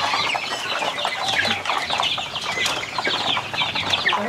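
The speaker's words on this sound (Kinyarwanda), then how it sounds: "Hano hari inkoko baciye umunwa." Chickens clucking with bursts of wing flapping, a busy cluster of fowl sounds close by with no talking.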